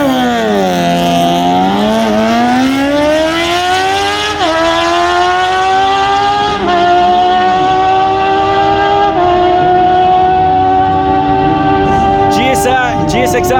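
A Kawasaki Z750 and a Suzuki GSX-R motorcycle at a streetbike drag racing event: loud high-revving engines climb through several gear changes as they pull away down the strip, with an announcer talking over the noise.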